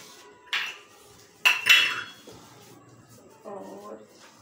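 Minced meat kebab mixture is stirred in a metal pan, with sharp clinks and scrapes of a utensil against the pan in a few separate bursts, followed by a softer rattling, close and fairly loud.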